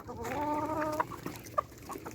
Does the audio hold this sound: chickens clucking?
yes